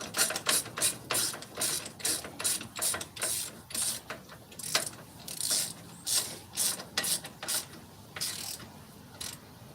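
A ratchet wrench works a nut tight by hand on a machine outdoors in the rain, giving a steady series of rapid clicking bursts, one stroke after another, close and moderately loud with no talk.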